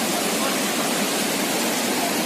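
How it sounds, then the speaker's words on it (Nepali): Water gushes from a burst pipe at the Nippon hydropower project, pouring across a road in a steady, loud, unbroken roar that fills the whole stretch. "पानीको पाइप ब्लास्ट भएर यसरी नै पानी बाटोमा बगिरहेको हामी देख्न"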